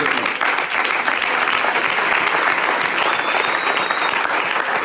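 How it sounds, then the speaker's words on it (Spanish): A church congregation claps loudly and continuously in a sustained, dense round of applause that fills the room, with faint voices mixed in. "Dale un aplauso fuerte al Señor"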